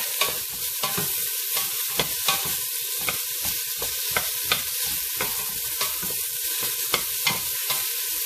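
Sautéing in virgin oil in a pan for Filipino beef adobo, a bright sizzle broken by regular scraping strokes of a spatula, about two a second, close and clear with no voices.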